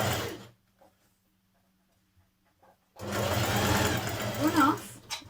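Sewing machine running a seam along a dress dart, a steady whirring hum in two bursts, brief at the start and longer after a pause, up close with a voice speaking over it.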